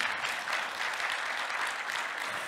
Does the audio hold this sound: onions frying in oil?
no